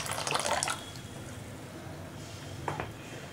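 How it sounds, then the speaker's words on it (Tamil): Tamarind water is poured into a ground paste while cooking a drumstick-leaf tamarind gravy, making a short splashing pour followed by faint trickles and drips. "இதில் வந்து புளி தண்ணி ஊற்றிக்கலாம்."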